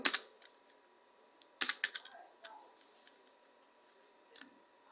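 Code is typed into Microsoft Excel's VBA editor on a computer keyboard: quiet keystrokes come in short, quick clusters separated by pauses, with a few lone taps.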